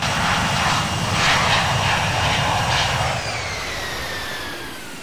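A simulated aircraft takes off in the Infinite Flight game, its engines giving a steady, loud, broadband roar that fades slightly toward the end of the takeoff.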